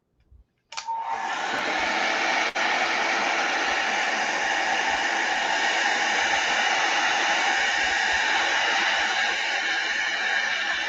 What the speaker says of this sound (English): Let me turn the heat gun on.